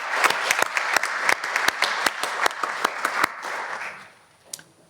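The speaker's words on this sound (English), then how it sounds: "let's give a big hand of applause to Christof and Brain Hero" Conference audience at a start-up and social business forum applauds a speaker and his company, with dense clapping and a few sharp close claps that thin out and fade near the end.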